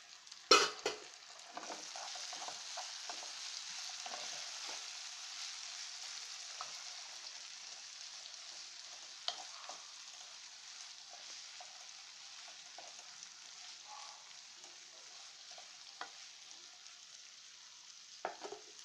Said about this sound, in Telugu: అదేవిధంగా క్యాప్సికమ్ ముక్కలను కూడా వేసేసుకుందాం.